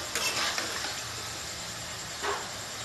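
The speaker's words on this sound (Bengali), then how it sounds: "এইভাবে অনেকক্ষণ ভাজতে হবে পাঁচ সাত মিনিট হয়ে গেছে এখনো পাঁচ মিনিট মতো লাগবে ভাজতে" Taro (arbi) slices frying in oil for a Bengali-style crispy fry: a steady, quiet sizzle with a few soft stirring scrapes, heard alone without voices.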